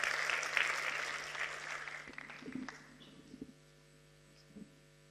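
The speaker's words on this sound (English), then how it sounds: "More claps, more claps." An audience at the Greater Bendigo Climate Summit claps loudly and densely at first, then the applause thins and fades to scattered claps over a steady low hum.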